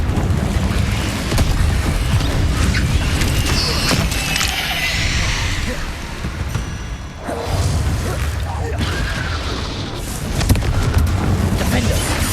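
Confringo spell blasts in Hogwarts Legacy go off as deep booms and crashing bursts amid combat whooshes, loud and repeated across the stretch, with spoken voices mixed in.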